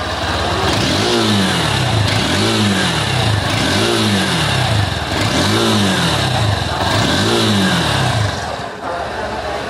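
Honda Hornet 2.0 motorcycle on a wooden frame revving repeatedly, five evenly spaced throttle blips rising and falling over a steady idle, loud and close.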